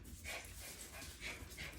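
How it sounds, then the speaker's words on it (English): A puppy named Ben whimpers and scampers around faintly in the background of a noisy kitchen, with short yips rising above a steady wash of room noise. "If you guys can hear my pup Ben running amok."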